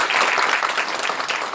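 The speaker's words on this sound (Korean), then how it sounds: "박수 한번" Audience applause at a regional government briefing in Gyeongbuk, a short burst of dense, steady clapping from a room full of people, fairly close and continuous throughout.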